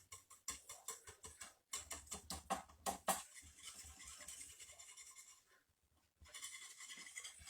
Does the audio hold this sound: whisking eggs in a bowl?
yes